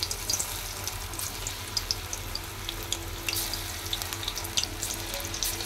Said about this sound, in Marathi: आणि कडक तेलातच तळायचं आहे